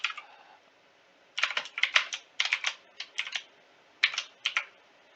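Bursts of rapid keystrokes on a computer keyboard, clustered into short irregular runs separated by brief pauses, close and fairly crisp with no voices.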